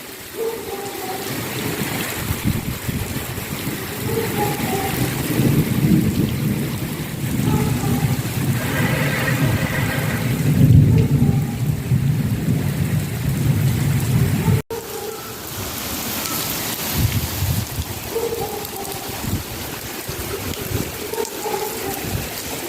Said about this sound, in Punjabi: ਹਰ ਕਿਸੇ ਨੂੰ ਰਾਹਤ ਆ ਜਿਹੜੀ ਗਰਮੀ ਤੋਂ ਮਿਲ ਜਾਣੀ ਅੱਜ ਦੇ ਮੀਂਹ ਨਾਲ